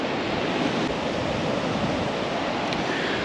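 Ocean surf washing steadily onto a beach, a continuous broadband roar with no breaks, close and fairly loud with no voices.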